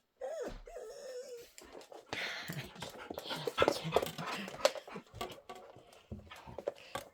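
A dog nearby gives a short, high whimpering whine and then breathes and pants noisily, with rustling and muffled movement around it.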